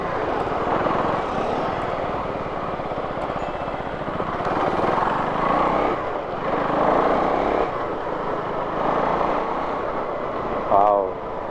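A Husqvarna Svartpilen 401 motorcycle engine on a test ride, a continuous close rumble rising and easing as the throttle changes, with wind noise and a rider's voice speaking over it.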